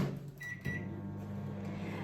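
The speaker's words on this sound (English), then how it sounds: "And then you can get this going in your microwave for 1 minute." An 800-watt microwave oven hums steadily at close range, a low continuous drone with a brief click near the start.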